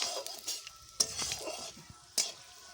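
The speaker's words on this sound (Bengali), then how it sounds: "একটুখানি ভেজে নিচ্ছি।" Bay leaf, dried red chilies and five-spice seeds frying in oil in a wok for khichdi tempering: a close, steady sizzle punctuated by a few sharp spatula scrapes and clinks against the metal.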